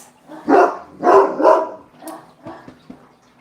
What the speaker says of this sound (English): the dogs are barking at absolutely nothing